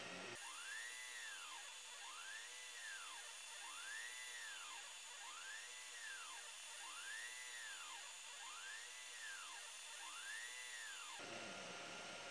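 An Ortur Aufero 1.6 W laser engraver at 80% power cutting 2 mm plywood, a steady high whine with a regular rising-and-falling sweep repeating about every 1.5 seconds, stopping near the end.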